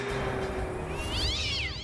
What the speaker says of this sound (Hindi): हाँ, और ये तो काली बिल्ली है